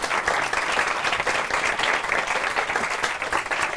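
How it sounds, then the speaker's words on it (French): An audience at a live hypnosis show applauds steadily, a dense wash of many hands clapping at even loudness from start to end, with no talk over it. "On peut l'applaudir."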